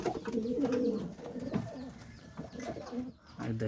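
Pigeons cooing after a male is placed in with a female, steady low rolling coos repeating close by, with brief flutters and shuffles between calls.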